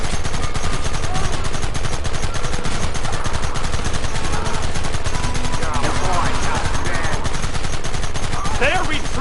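Dense, continuous gunfire from rifles and rapid repeating shots in Red Dead Redemption, loud and close throughout, with shouted voices mixed in under the barrage.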